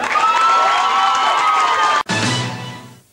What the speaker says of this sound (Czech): Zatleskáme.